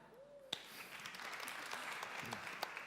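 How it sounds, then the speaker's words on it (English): Scattered applause builds from a quiet room into steady clapping from an audience, faint and somewhat distant, with a couple of sharper claps standing out. "Can you clap?"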